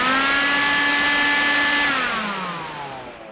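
Electric radiator fan on a turbo M52 BMW E30 whirring loudly and steadily up close, its tone holding even and then sliding lower as it spins down and fades at the end.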